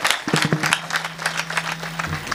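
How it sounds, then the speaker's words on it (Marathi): A kirtan audience claps for Mauli Maharaj Chavan in a short burst of scattered hand claps, close and fairly brisk, over a sustained low musical drone. "एकदा टाळ्या वाजत त्यांच्याकडे"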